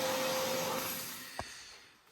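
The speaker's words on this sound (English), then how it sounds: "it's time to get out the Hoover." Hoover vacuum cleaner sucking leaves out of a car, likely a Golf R: a steady loud whine that slowly fades as the motor winds down, with a short thump partway through.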